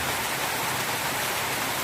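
Rain falls steadily on a farm where turkeys, chickens and ducks are kept, a dense even hiss of drops on surfaces with no break and no voices.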